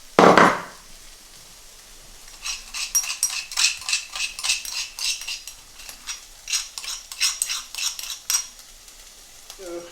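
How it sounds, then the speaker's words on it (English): Whole black peppercorns are crushed by hand for aloo paratha in a Punjabi village kitchen. One loud knock comes first, then a quick run of crisp, close crunching and clicking taps in an irregular rhythm. "I'm just crushing whole black peppercorns, about half teaspoon"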